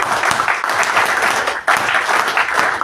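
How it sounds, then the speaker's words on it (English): A seminar audience claps in a dense round of applause, steady and fairly loud with a brief dip and restart partway through. "A big round of applause."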